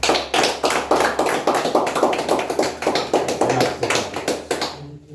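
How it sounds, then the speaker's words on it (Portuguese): A church congregation applauds during an evening worship service, steady dense clapping from many hands filling the space for about five seconds before fading out at the end. "Vamos aplaudir a palavra de Deus?"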